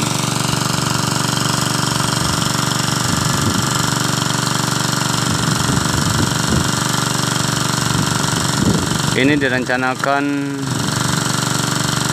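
A bore well drilling machine in a rice field, sinking a well planned for 40 to 50 meters, runs with a steady, heavy mechanical drone and rhythmic thudding; someone talks over it throughout.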